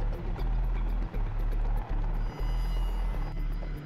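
VH-3 presidential helicopter in flight with three Marine crew aboard, a steady low rotor and engine drone that stays loud and continuous throughout, with a few brief dips in level.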